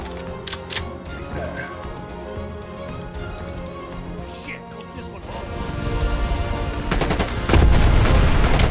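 Shotgun blasts and other gunfire in the video game Black Ops Cold War, sparse sharp shots at first, then a louder, denser stretch of firing and crashing over a continuous game soundtrack.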